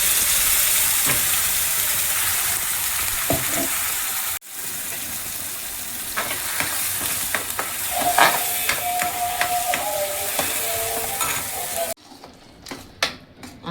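Hing and a ground paste for drumstick curry hit hot oil with a loud, continuous sizzle, then quieter frying with scraping and stirring, and a sudden cutoff near the end.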